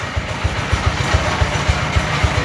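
A farm tractor engine runs with a steady low, rhythmic chugging pulse, close and continuous.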